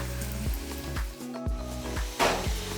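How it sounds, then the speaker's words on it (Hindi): Cornflour-coated potato french fries frying in oil, a continuous bubbling sizzle with soft clunks and scrapes of stirring in the pan, heard up close without speech. "इतने हमारे फ्रेंच फ्राई तैयार हो रहे हैं, बस बिल्कुल तैयार होने पर हैं।"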